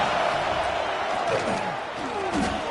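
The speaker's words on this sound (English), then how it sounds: "Here comes this home crowd as the defense tries to get off the field on 3rd down." Home crowd roaring at South Carolina's stadium in an NCAA Football video game as Georgia's offense faces third down, a steady, loud wash of crowd noise running throughout with faint game sounds underneath.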